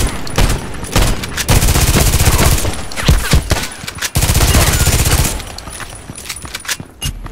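Kedr SMG in the shooter game Contract Wars fires in rapid bursts, loud and close, with staccato runs of automatic fire, short pauses between volleys and a quieter tail at the end.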